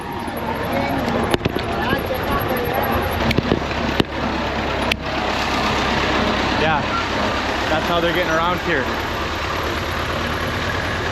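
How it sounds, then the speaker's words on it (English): A tractor engine runs steadily as it carries passengers as public transport along a rural road in Cuba, a constant low drone with a few sharp knocks and clatters, while people talk over it. "This is public transportation. We have a tractor."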